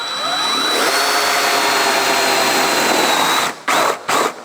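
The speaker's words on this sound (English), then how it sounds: "So I've stepped back from the edge and we'll drill up to the line." A loud, steady whine of a power drill grinding through a metal gauge and switch panel for a 1956 Chrysler for several seconds, then cutting out in a couple of short bursts before stopping.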